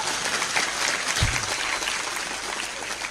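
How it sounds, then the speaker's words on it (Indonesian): Applause from a crowd gathered for a religious talk by an Islamic preacher, a steady wash of clapping at moderate level across the whole stretch, with one brief low thump early on. "Nanti penjenengan besok tepuk tangan rapopo sing banter"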